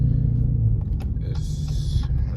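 A Dodge Scat Pack car's engine rumbles low and steady from inside the cabin on a night drive, with a few faint ticks and a short hissy burst on top.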